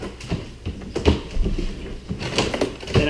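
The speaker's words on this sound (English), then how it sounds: "where I slide it backwards a little bit first and then lift it out." A freezer's bottom drawer is slid backwards and lifted out of its tracks, giving a few sharp plastic clunks and scrapes spread across the moment, close and moderately loud.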